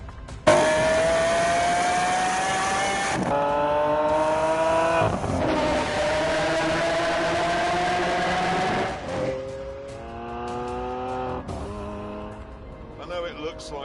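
Several supercars accelerating hard and racing past on an open road on a fine day, engines rising through the gears with tire squeal, loud and close, while someone talks over the roar.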